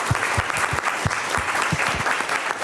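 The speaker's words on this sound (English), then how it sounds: "Could we give a round of applause for our supporters?" A museum audience at an artists and curators talk gives a round of applause, dense clapping with a steady patter and occasional louder individual claps nearby.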